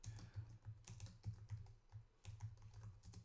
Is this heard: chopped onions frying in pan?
no